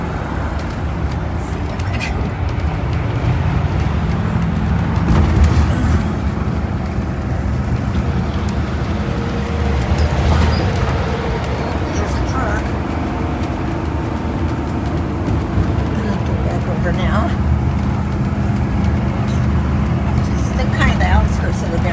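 Continuous freeway traffic roar from inside a moving car driving through Sacramento's busy interchanges, with broadband road and engine noise that swells as vehicles pass. Someone talks over it.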